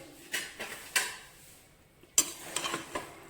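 Rice and dal being stirred in a pot with ghee and chopped coriander, a few sharp scraping clinks of a spoon against the metal spaced across a few seconds, close and fairly quiet with no talking.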